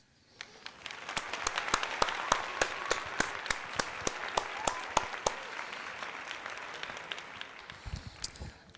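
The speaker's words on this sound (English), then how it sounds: "So that deserves a round of applause." A round of applause. Sharp, evenly spaced claps stand out over a softer bed of clapping, build quickly from quiet, hold steady and then thin out toward the end.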